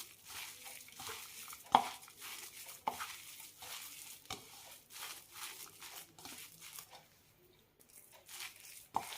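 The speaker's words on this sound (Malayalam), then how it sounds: "നന്നായി മിക്സ് ചെയ്യാം." A spoon stirs and mixes thick chana dal pakoda batter with sesame seeds in a bowl, making soft wet squelches and sharp scraping knocks at irregular intervals, close and fairly quiet.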